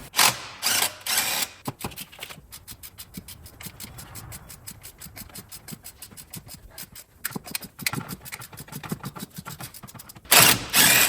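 Ratchet loosening valve cover bolts on a brick-nose Ford F150 truck, rapid rhythmic clicking of the pawl in long runs, with louder bursts of turning at the start and end, close by and without talk.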